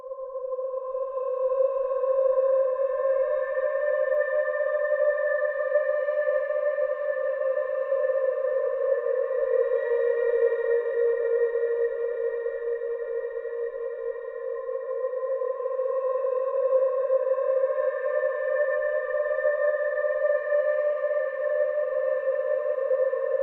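A reversed vocal line drenched in heavy reverb and ping-pong delay, forming a steady sustained smear of layered tones that holds for the whole stretch without any gaps.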